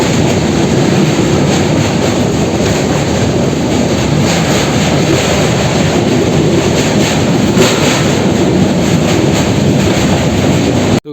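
The Jammu Tawi Express rolls along its rails on a route through Bihar, a loud continuous roar of wheels and carriage rumble heard from inside the train, steady throughout, with faint rhythmic clatter and no talk.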